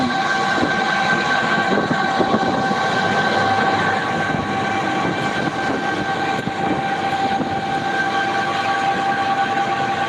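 A train passes nearby, producing a loud, continuous rumble of rolling wagons with steady tonal whine throughout, no voices.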